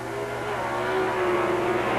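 Two Plymouth pro stock drag cars, a Valiant and an Arrow, race side by side down a drag strip, a steady loud engine roar building slightly as they accelerate, with no voices.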